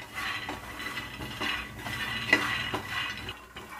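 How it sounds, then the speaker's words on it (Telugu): Peanuts being fried in a pan, with a soft continuous sizzle and the light clinks and scrapes of a spoon stirring them, close and fairly quiet, with no voices. "పల్లీలను యాడ్ చేసి దీన్ని మనము ఫ్రై చేసుకుందాము."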